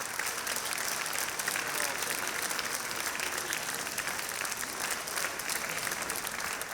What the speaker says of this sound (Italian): un applauso fortissimo per gli amici del coro di Cagliari